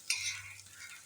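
A boiled egg frying in a pan gives a brief close sizzle with a stirring scrape, a short burst of hot-oil crackle that fades slightly, with no voices.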